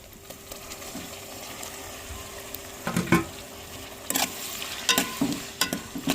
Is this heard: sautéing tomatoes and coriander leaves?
yes